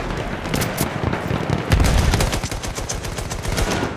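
Loud, dense bursts of gunfire in the video game Battlefield 1, with rapid overlapping shots and a heavier blast near the middle that continue without a break for the whole stretch.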